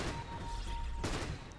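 Gyrocopter's Flak Cannon firing in a Dota 2 match, heard as a steady, dense rattle of gunfire bursts that carries through the whole short stretch, with a sharper burst near the end.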